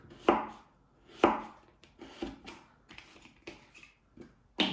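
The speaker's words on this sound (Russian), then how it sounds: "Режем на средний кубик." A knife dicing frozen fish into medium cubes for a Yakut-style salad on a cutting board, sharp individual chops at an irregular pace, close and crisp with quieter taps between.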